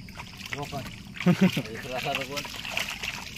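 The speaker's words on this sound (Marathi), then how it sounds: "इथे पूर्ण पाण्याचा आवाज येतोय" Water flowing steadily with a soft, hissing wash in the background while people talk over it nearby.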